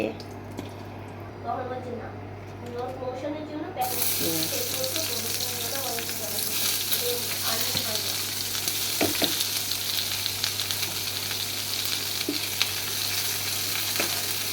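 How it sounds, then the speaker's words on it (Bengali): Onions fry in a pan until reddish-brown for a chicken-feet bhuna. A quieter opening with a faint voice gives way to a bright, continuous sizzle with occasional stirring clicks and pops. "পেঁয়াজটা আমি লাল লাল করে ভেজে নেব।"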